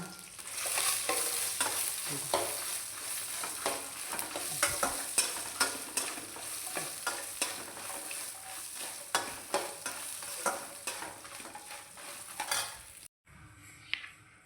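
Spices and pepper sizzle in a pan while a spoon stirs them, a steady close frying hiss broken by frequent scraping and clinks, with no talking, for a jackfruit and chickpea dish.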